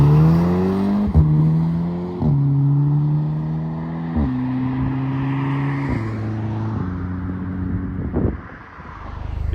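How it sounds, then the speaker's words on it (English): Engine of a Volkswagen MK6 Golf R fitted with a Cobra exhaust, close and steady with a low purr, stepping through several rises and small revs with brief clicks between. "it's not the loudest car I've ever owned, but it's got a good purr"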